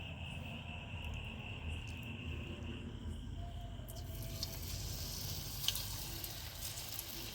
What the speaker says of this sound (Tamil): எண்ணெய் நல்லா சூடாயிருச்சு இப்போ எண்ணெயில் பொரித்து எடுத்துக்கலாம்